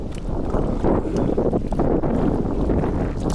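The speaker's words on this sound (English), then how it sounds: "It's windy, man." Steady wind buffets the microphone out on open water at a secluded carp fishing spot, a continuous low rumbling roar with gusty swells and no pauses.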